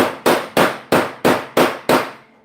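Six loud, evenly spaced hammer blows ring out as a metal part is driven into a welding jig, each sharp strike decaying briefly before the next, with no talk.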